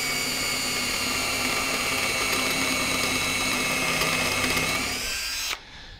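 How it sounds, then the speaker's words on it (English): A countersink drill bit cuts steel, a loud steady power-drill whine with a sustained high ringing tone for about five and a half seconds that stops abruptly, leaving a faint tail of room noise. "and we drilled into a piece of steel like that"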